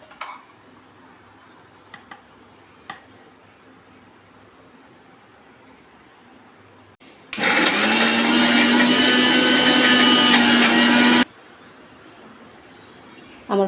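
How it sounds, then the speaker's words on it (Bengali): An electric kitchen grinder whirs loudly for about four seconds, blending boiled green banana peel with green chili and garlic into a paste, preceded by a few faint clicks and quiet room noise. "খোসাটাকে আমি এখন পেস্ট করে নেব কাঁচা লঙ্কা রসুন দিয়ে।"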